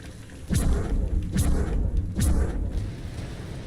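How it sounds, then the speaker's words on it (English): Three deep booming explosions about a second apart in Mass Effect 2: Legendary Edition, each with a rumbling tail, loud and close with no talking. "Explosions! Bang!"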